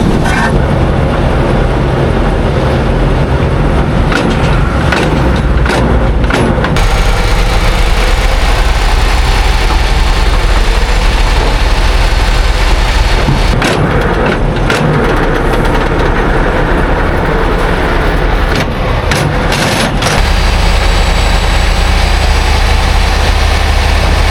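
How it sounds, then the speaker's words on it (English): A big old truck engine rumbles loudly nearby, rising and falling as it is revved in several surges over a constant idle, with no talking. "Why is he revving his truck up?"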